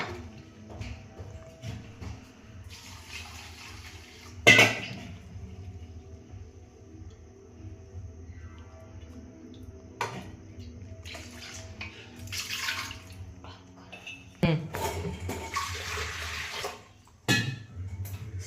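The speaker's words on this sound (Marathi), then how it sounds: "ह्या डाळ मिरची आणि टोमॅटो हे धुवून घेऊ स्वच्छ पाण्याने" Water running from a tap in bursts while dal, green chillies and tomatoes are rinsed and rubbed under it, with occasional clunks of a pot nearby.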